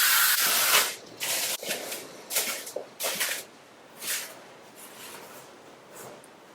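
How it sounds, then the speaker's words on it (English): Short hissing bursts of spray adhesive from an aerosol can, about seven sprays in quick succession with brief gaps, applied during a car headliner installation. "Going back at this with another coating of spray adhesive."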